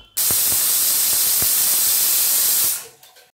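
Steam hisses loudly and steadily from a pressure cooker after its whistle as boiled corn kernels cook for corn vadas, with a few faint clicks before it fades out near the end.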